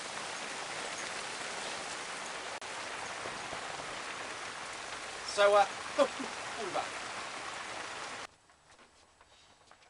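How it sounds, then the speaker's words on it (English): Hail falls outside in a dense, steady rattling patter that stays even for several seconds, with a brief spoken remark partway through, then cuts off to near silence. "Crazy hail that came on for about 20 minutes"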